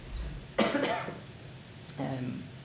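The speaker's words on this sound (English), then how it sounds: "I've got a cough" Two close, harsh coughs, one early and a shorter one near the end, with quiet room noise between them.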